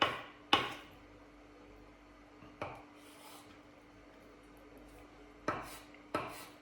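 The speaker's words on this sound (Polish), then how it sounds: "Jajka kroję dość grubą kostkę." Knife slicing boiled eggs into thick cubes on a board, heard as four sharp, close chopping taps spaced irregularly over a quiet kitchen background.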